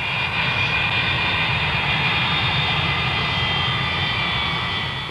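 A jet aircraft engine roars steadily at Idlewild airport in 1962, a loud continuous whine with a deep rumble underneath, holding near and constant throughout with no voices.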